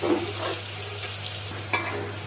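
Taro stems and dried shrimp fry in a pan over a lowered flame, already slightly scorching, giving a steady close sizzle broken by a few stirring scrapes and one sharp metallic tap.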